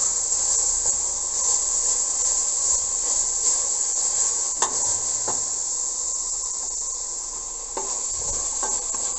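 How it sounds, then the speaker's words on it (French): Cabbage stirred into a pot of udon with meat juices, a steady sizzle and soft scraping from the pan with occasional clicks of the utensil, no talking. "on ajoute les choux en remuant toujours"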